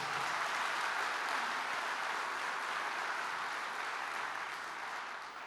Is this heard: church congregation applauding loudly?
yes